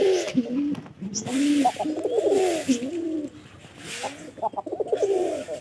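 Pigeons coo in repeated, throaty rolling phrases, close and fairly loud, with a pair courting and bonding nearby; calls overlap and continue in bursts throughout.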